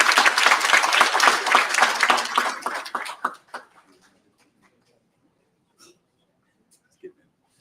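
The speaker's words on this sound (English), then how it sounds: "One more round of applause for the interns, the entire program." Audience applause at an i.c.stars Kansas City commencement ceremony for program interns, dense and loud clapping for about three seconds before thinning out, followed by near silence with a couple of faint stray sounds.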